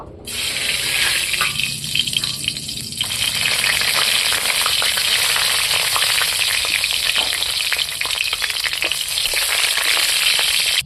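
Panch phoron spices dropped into hot oil over a clay village stove burst into a loud, dense sizzle that crackles continuously and close, with brief pops and no voices.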